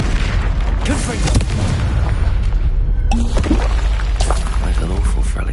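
A Confringo fire-blast spell explodes in Hogwarts Legacy, booming loudly amid a steady wash of other combat blasts and effects, with a voice speaking over the action.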